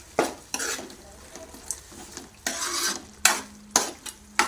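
Coriander chicken is stirred with ghee in a pan: repeated scraping strokes and metallic clinks of a spoon against the pan, irregular and close, over a faint sizzle, with no talking.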